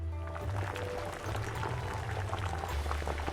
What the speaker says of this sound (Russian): Периодически мы подливали воду.